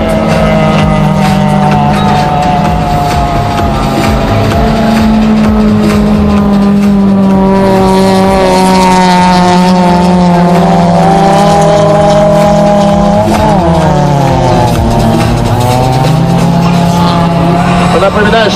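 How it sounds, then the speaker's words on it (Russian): Racing cars on an ice track at a Russian Cup ice auto race in Cheboksary, with engines droning loud and continuous and shifting pitch as they run the circuit, dipping and rising again near the end. "Эти автомобили словно по рельсам проходят нашу трассу"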